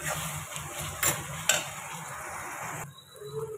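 Ginger garlic paste hits sizzling spices in a pan with a steady frying hiss and stirring scrapes, a couple of sharp utensil knocks, and the sizzle dropping away near the end.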